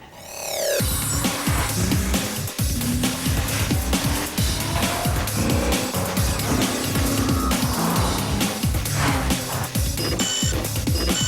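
V6 Nissan Altima driving in a TV ad: a loud engine roar with tire squeal and rushing passes that fill the whole span, dense and continuous from start to end, set over a music bed.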